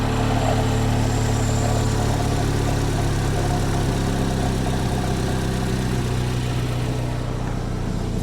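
A 2015 GMC Terrain engine idles steadily throughout, a loud, even, low mechanical hum with constant vibration and no voices over it.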